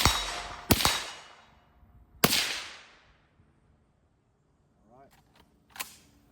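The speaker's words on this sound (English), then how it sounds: "We'll shoot a few more suppressed, and then I've got a couple I'll shoot unsuppressed." Two suppressed shots from a Meridian Defense Volk-S rifle in 7.62x39 fitted with a Silencerco suppressor, sharp close cracks with short decaying tails, then faint metallic clicks and a brief voice.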